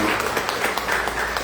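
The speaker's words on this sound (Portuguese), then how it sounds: "Aplaudimos o Senhor na vida deles." A church congregation claps in a dense, continuous burst of applause, moderately loud, with a voice faintly mixed in.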